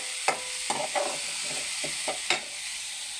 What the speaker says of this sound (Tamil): இந்த வெங்காயத்தையும் அதிலே போட்டுக்குவோம் போட்டு நல்லா வதக்கிக்குவோம்